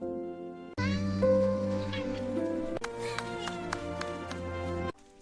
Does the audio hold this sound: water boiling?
no